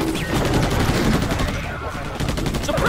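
Dense gunfire crackles in the video game Battle: Los Angeles, with rapid automatic bursts and overlapping shots forming a loud, continuous fusillade. Shouting soldiers can be heard faintly beneath it.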